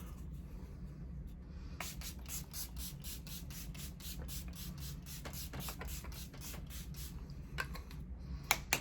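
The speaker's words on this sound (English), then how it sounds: "let's use some setting spray" Makeup setting spray misted in a rapid run of short, sharp hisses, close to the mic over a steady low background hum, with a couple of final bursts at the end.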